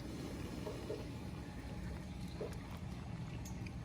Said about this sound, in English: we're gonna start to fill this tire up with water